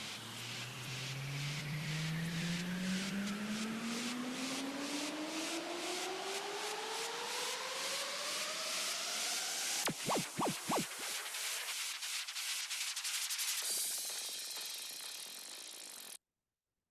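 Layered electronic build elements for a track: a rising synth sweep climbs steadily under dense, rapid ratcheting clicks, cut by a brief stuttering gap near the middle, then a bright sustained noisy layer before an abrupt stop.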